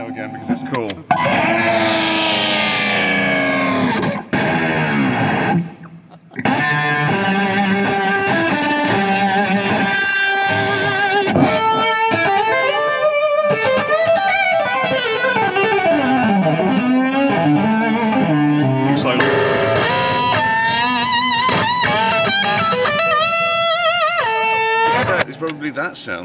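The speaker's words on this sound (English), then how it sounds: "We've got filthy distortion," An electric guitar runs through a heavily distorted effects pedal on a touring pedalboard, playing continuous bending lead lines and chords, loud and saturated, with brief pauses between phrases.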